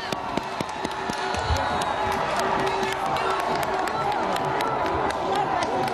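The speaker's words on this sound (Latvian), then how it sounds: "Pūlis kliedz ekstāzē" A large crowd of supporters cheers and shouts excitedly outside a city council building as a politician comes out to greet them, a dense, continuous roar with scattered claps and whistles and voices mixed throughout.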